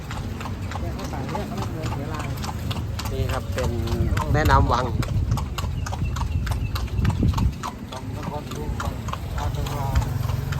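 Hooves of a horse pulling a carriage through Lampang near the Wang River clop in a steady, close rhythm, with someone talking over them throughout.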